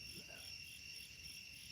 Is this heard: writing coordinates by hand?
no